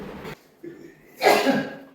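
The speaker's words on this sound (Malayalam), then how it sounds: "ആരോ തുമ്മുന്നു ഗൈസ്" A single sharp sneeze bursts out partway through a family challenge game at home, after moments of nearby talking.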